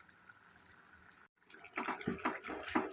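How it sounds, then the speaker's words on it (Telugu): Water is poured from a tea cup into chicken curry cooking in a pan, making a short watery splash and sizzle that follows a brief quiet gap, with no talking. "చికెన్లో కొంచెం గ్రేవీ రావటానికి కొంచెం ఒక టీ గ్లాసుడు వేసుకోవాలి"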